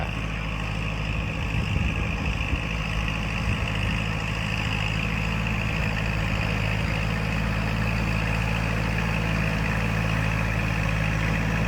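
A Kubota L5018 tractor runs steadily while tilling a wet rice paddy, its engine a continuous close, loud, even drone with no speech.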